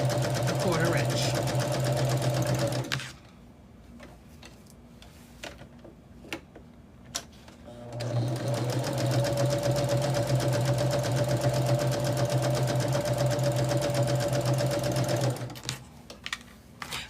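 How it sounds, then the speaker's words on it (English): A sewing machine with a quarter-inch foot runs steady, loud stitching bursts along a quilt seam, stopping for about five seconds in the middle before a second long run. "I'm using my 1/4 inch foot, and I just sew on either side"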